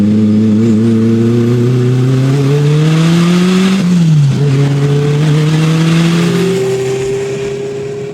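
Classic sports car engine revving hard toward the red line, a loud, close, sustained mechanical roar whose pitch climbs steadily, dips briefly as it shifts, then climbs again before easing off at the end; no talking.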